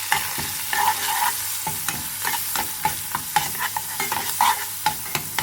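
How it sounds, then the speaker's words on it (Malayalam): Crushed onion, chilli and curry leaves frying in oil in a pan, a loud close sizzle broken by frequent rhythmic stirring scrapes and light clinks of the spoon against the metal. "ഇതിലേക്ക് ഉള്ളിയും മുളകും കൂടെ ചതച്ച് വെച്ചത് ഇട്ട് കൊടുക്കുക ഒരു തണ്ട് കറിവേപ്പിലയും കൂടി ഇട്ടിട്ട് നന്നായി മൂപ്പിച്ചെടുക്കാം"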